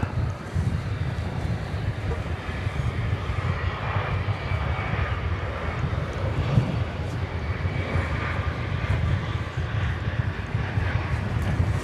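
A passenger jet bound for Fort Lauderdale passes over DFW Airport at night, a steady, moderately distant engine rumble with some wind noise buffeting the microphone.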